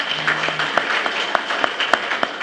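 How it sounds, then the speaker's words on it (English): Applause from the audience at a stakeholders' engagement event, given as thanks to a government minister: steady, moderately loud clapping throughout with a few sharper individual claps standing out, and no talking over it. "A round of applause."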